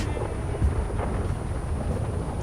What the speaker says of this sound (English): let's go to weather, and let's go to thunder.